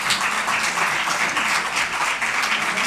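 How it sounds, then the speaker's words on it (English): A conference audience at a banking event keeps up loud, sustained applause, a dense even wash of many hands clapping without a break for the full stretch. "Another round of applause, ladies and gentlemen."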